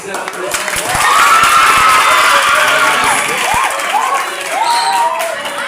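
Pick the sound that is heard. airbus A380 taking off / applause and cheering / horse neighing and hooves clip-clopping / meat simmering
applause and cheering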